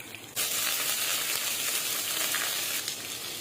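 Mustard seeds, chana dal and onion frying in hot oil, a loud steady sizzle and crackle that starts abruptly and holds for several seconds with no talk.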